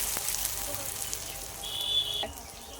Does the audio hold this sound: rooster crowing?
no